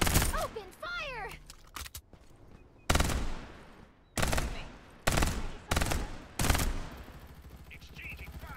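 Gunfire in the battle royale game Farlight 84 bursts out in several loud, separate volleys, each a dense rattle of rapid shots that cuts off sharply, with brief quieter gaps between them.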